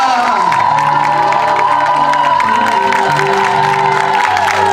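A large crowd at a youth conference cheers and whoops loudly and continuously, with shouting voices and scattered applause blending into a dense, sustained roar.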